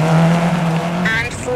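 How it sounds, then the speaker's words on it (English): Rear-wheel-drive rally car in the EA WRC racing game, its engine droning steadily at close range and then shifting pitch, with a voice talking over it. "We're driving a rear wheel drive rally car"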